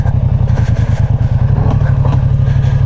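A Yamaha motorcycle engine runs close by with a loud, pulsing, uneven chug, its beat stuttering briefly before settling into a steady throb.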